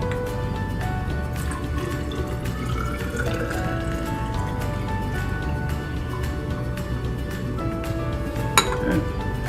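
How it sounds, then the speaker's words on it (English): Hydrochloric acid pouring into a graduated cylinder in a lab, a close trickling fill with rising liquid tone, small drips and a faint glassy clink near the end. "And I fill my graduated cylinder up the top."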